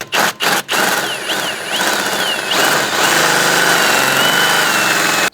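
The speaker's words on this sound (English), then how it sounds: "Simply we're just going to go ahead and drill this off," A power drill drilling out a stripped brake rotor retaining screw on a 2006-2013 Chevrolet Impala, starting with a few short bursts, then a loud continuous whine whose pitch wavers as the bit bites into the metal.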